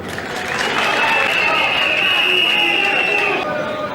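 An audience at a provincial assembly session applauds steadily, a sustained wash of clapping with some cheering and crowd murmur, loud and close throughout.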